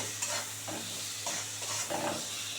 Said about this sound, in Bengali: দিয়ে এটাকে একটু ভালো করে ভাজা ভাজা করে তারপরে জল দিয়ে দেবো।